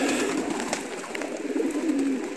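Pigeons coo softly and steadily at a pigeon loft on a rainy day, a continuous gentle murmur of several birds close by.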